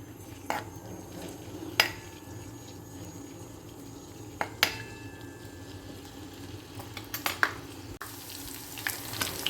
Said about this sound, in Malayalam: വെളുത്തുള്ളിയും ഇഞ്ചിയും ജസ്റ്റ് ഒന്ന് മൂത്തിട്ടുണ്ട്